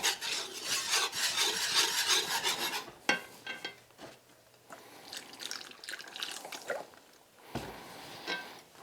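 A small whisk scraping and rasping through gravy mix in a crockpot, quick rubbing strokes up close that slow into scattered scrapes and taps.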